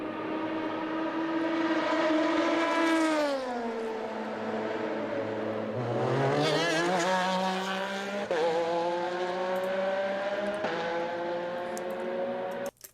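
A Porsche 911 RSR race car in its 2017 Daytona configuration screams through steady high revs, dropping as it shifts down then climbing again with sharp upshifts, loud and close throughout.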